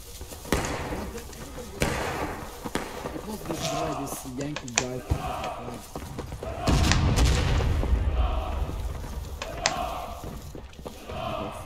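Gunfire in the Civil War shooter War of Rights at Miller's Cornfield: scattered rifle shots boom at varying distances, with a heavier burst midway, under frequent voice chat from players.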